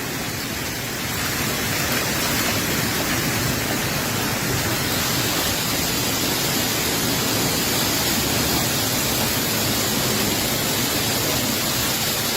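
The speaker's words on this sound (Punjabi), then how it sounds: "ਉੱਪਰੋਂ ਗੜੇ ਡਿੱਗ ਕੇ ਛੱਤ ਤੇ ਵੱਜ ਕੇ ਥੱਲੇ ਆ ਰਹੇ ਨੇ" A dense, unbroken roar of hail drumming on a fiberglass roof in Punjab, loud and steady throughout, with no pauses or voices.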